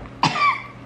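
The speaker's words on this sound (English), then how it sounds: "Did you just cough on me?" A single sharp, close cough, loud and abrupt, during a mother-daughter gross food tasting challenge, with no talk over it.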